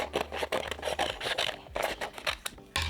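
Scissors or a blade snip and scrape through a small vinyl piece in several quick, close, dry cuts with brief pauses between strokes.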